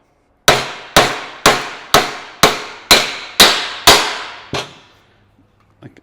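A small ball peen hammer strikes a heat-treated chromoly steel axle eight times, sharp and metallic at a steady rhythm, then a ninth softer blow and a faint tap; loud, close, no talking.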